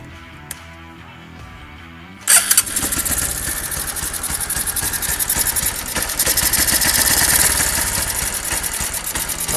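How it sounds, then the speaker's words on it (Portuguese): A carbureted Honda Titan 150 motorcycle with a modified camshaft starts up after a quiet moment, then settles into a loud, steady idle that rumbles close by. "vamos ligar aqui a moto. Vamos guardar aqui, ó. Vamos ver só na lenta dela."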